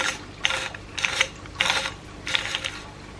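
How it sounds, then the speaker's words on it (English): A pistol buffer tube being threaded onto a rifle, with four or five bursts of close metallic ratcheting and clicking as the tube is turned, separated by brief pauses. "now what I'm gonna do is get this buffer tube started. You know, start threading it on"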